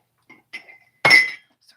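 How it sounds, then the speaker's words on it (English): Glass and metal clink sharply as liquid tea is strained, a few small taps followed by one louder ringing clink, close by and short. "I'm just straining the liquid tea out."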